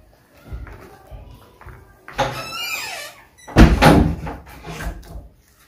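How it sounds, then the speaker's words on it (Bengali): A door is pushed shut indoors: a long creaking squeal as it swings, then a heavier bang and rattle as it closes, close by and loud, with quieter knocks before and after. "দরজাটা বন্ধ কর, প্রচুর আওয়াজ আসছে।"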